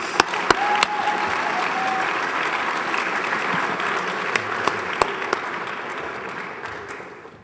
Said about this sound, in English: let's give him an applause, please